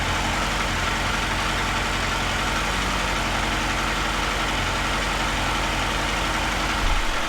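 Triumph Trophy 1200 motorcycle, off the road for six years, idles steadily up close: an even, low, pulsing engine rumble with a constant hiss, no talk.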